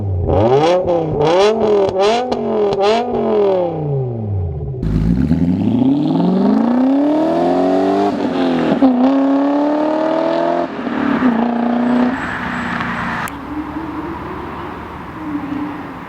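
BMW engines with a muffler-delete exhaust, including a V10 M6 and an M5, rev hard in repeated climbing and falling sweeps, then settle into longer, rising and falling roars. The sound is loud and close, with no talking.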